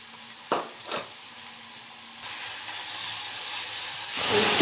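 Mango chutney with jaggery simmers in a pan, a couple of scraping stirs giving way to a soft, rising hiss and sizzle that grows louder toward the end.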